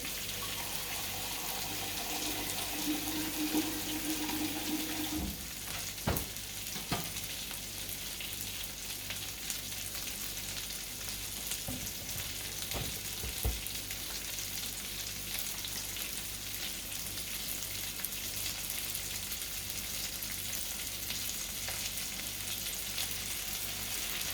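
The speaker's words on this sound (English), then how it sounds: "You can smell the chorizo." Chorizo sizzles and fries steadily in a pan for chorizo and prawn pasta, a continuous crackling hiss with a few louder clatters and stirring knocks around the middle, close and fairly loud, with no talking.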